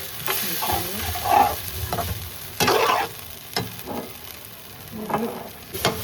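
Potatoes with arrowroot are stirred and fried in a pan, giving a soft continuous sizzle broken by irregular scraping strokes of a spoon, close and moderately loud.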